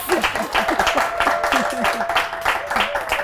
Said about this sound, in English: Can you clap for that, please?